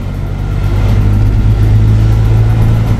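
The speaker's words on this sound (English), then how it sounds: "That rumble that goes through the chassis if your revs aren't high enough" A JMC Vigus Chinese 4x4 pickup engine lugging at low revs, a loud steady deep rumble and drone carried through the chassis, continuous with no talking.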